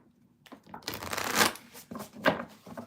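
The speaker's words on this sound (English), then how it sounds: "I'm going to shuffle before I move on and read the chat" Tarot cards being shuffled by hand, close and soft, with repeated riffling bursts and papery flutters in quick succession, no talking.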